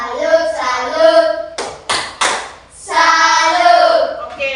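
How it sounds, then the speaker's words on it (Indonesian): A classroom group in Indonesia performs a tepuk salut rhythmic clap, a few sharp hand claps and taps in a patterned sequence, with chanted voices before and after the clapping bursts. "kami beri tepuk salut dulu ya untuk teman-teman dari kelompok 2"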